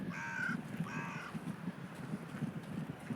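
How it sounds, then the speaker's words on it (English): Two harsh caws from crows near Walpole Bay and Foreness Point, loud and close in the first second, then a low steady wash of outdoor background. "I think the cawing sound that they make is different."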